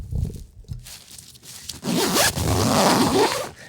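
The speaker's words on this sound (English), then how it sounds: "they're pretty small zippers" A small zipper on a travel duffel bag pulled in a few short tugs, then one longer rasping zip, close and fairly loud.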